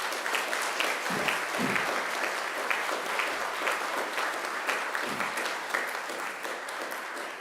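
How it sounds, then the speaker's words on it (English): Graduates at a university graduation ceremony give a sustained, dense round of applause that stays full and even throughout, with no speech over it. "give them a mighty round of applause again in thanks"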